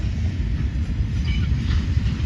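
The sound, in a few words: CPKC freight train going by northbound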